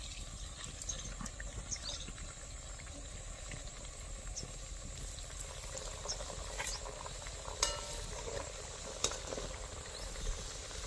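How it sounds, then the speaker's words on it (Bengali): Mathura-style breakfast cakes frying in hot oil, a quiet steady sizzle and bubbling hiss with a few brief clinks of a utensil, close but soft, no voices. "আমি বাকিগুলো সব ভেজে নিই"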